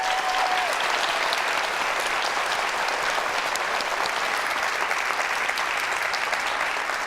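Sustained, dense audience applause for the 2019 ACC InVenture Prize semifinalists fills the hall at a steady level from start to finish, with no voices rising above it.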